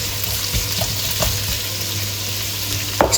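Carrots and celery sizzle steadily in a pan as the base for a traditional bolognese sauce, a constant frying hiss with a few soft clicks of stirring and a slightly louder scrape near the end.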